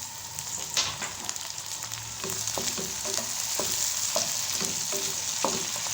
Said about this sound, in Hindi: जैसा कि हमारा अदरक लहसुन और प्याज ब्राउन हो गया है, अब हम इसमें डालेंगे 3 बड़े साइज के कटे हुए टमाटर